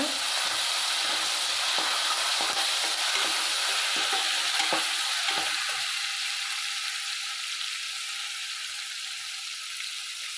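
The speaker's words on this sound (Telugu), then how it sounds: "కొద్దిగా ఫ్రై అవ్వనిద్దాం ఫ్రై అయ్యాక" Ginger garlic paste sizzles and spits loudly in a hot pan, with scraping stirs in the first half before settling into a steady frying hiss.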